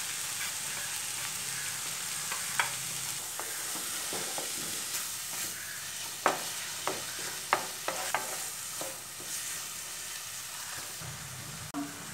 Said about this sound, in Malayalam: ഇത് നമ്മൾ ഇതിലേക്ക് ഇട്ട് നന്നായിട്ടൊന്ന് മിക്സ് ചെയ്യാൻ പോവുകയാണ്